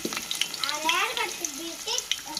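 Onions and green chillies fry in a pan with a bright, continuous crackling sizzle, close and fairly loud, with small pops and faint stirring textures throughout.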